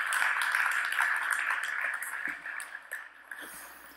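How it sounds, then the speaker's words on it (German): Conference audience applauding after a keynote speaker at a 2018 athletics conference, a dense, steady wash of many hands clapping that thins out toward the end, with no talking over it. "Deswegen auch nochmal auf jeden Fall einen Applaus für Marek und Robert"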